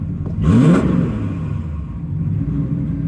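A 1989 Cadillac sleeper engine revs once sharply and close, the pitch rising and falling quickly, then settles into a low, steady idle rumble.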